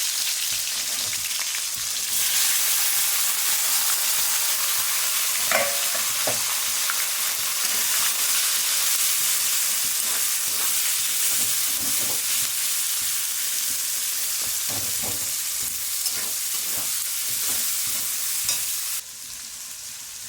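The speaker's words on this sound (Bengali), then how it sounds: "পেঁয়াজটাকে একটু ভালোভাবে ভাজতে দিই" Chopped onion frying with whole garam masala spices in a pan for a chicken curry, a steady loud sizzle with scattered stirring scrapes and clicks, easing slightly at the very end.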